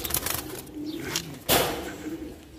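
Pigeons coo close by in a low, throaty, rolling murmur, with a few louder bursts and rustling over a busy background.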